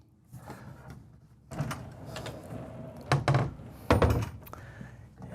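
Solid interior doors inside a Renegade Valencia 38RB RV being opened and shut, giving several hard thuds and knocks, two louder bangs near the end, over quiet cabin room tone.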